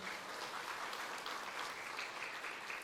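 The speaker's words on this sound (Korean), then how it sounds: "우리 하나님께 영광의 박수 올리겠습니다." Steady applause from a large church congregation, a dense even patter of many hands clapping throughout, heard from a distance.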